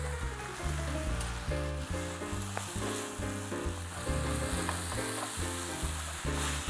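Dried cabbage and egg sizzle and crackle steadily in a hot oiled pan, a loud, close, continuous frying hiss with faint stirring scrapes.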